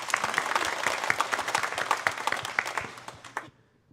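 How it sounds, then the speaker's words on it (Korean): A church congregation at a Sunday worship service in Yeosu claps in a dense burst of applause that carries on steadily for about three seconds before quickly dying away into silence. "주님께 영광의 박수 올리겠습니다."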